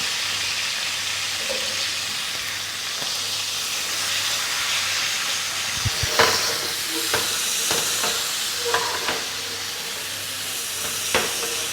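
Entrecôte steak searing in a hot pan gives a steady soft sizzle and hiss, with a few sharp clinks and scrapes as the meat is turned.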